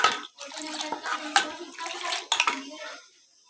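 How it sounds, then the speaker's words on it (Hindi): Milk poured into tea in a pot: a splashing, liquid pour with metallic clinks of the pan, fairly close, in two or three bursts before it fades out. "अब हम डालेंगे दूध"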